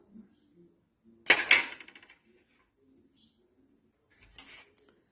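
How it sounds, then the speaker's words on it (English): Dry pancake ingredients, baking powder and cinnamon with amaranth, stirred in a bowl: a quiet scraping clatter of utensil against the bowl for about a second, then a shorter, softer clink burst later, with near silence between. "mix up the dry ingredients"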